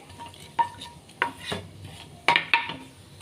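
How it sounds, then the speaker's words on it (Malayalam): Onion added to hot oil with cumin seeds and crushed ginger in a pan for soya chunks rice: a soft sizzle under several sharp clinks and scrapes of a metal spoon against the pan. "അപ്പം നമ്മുടെ ജീരകമൊക്കെ ചൂടായി വന്നപ്പോൾ ചിലവർ സവാള ഇടാറില്ല കേട്ടോ ഞാനൊരു ചെറിയ സവാള ഇട്ടെന്ന് മാത്രമേ ഉള്ളൂ സവാള ഇട്ട് കൊടുത്തു"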